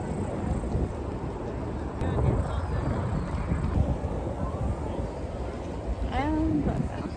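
Strong wind buffets a nearby microphone in a constant low roar, with a few faint higher tones drifting through near the end.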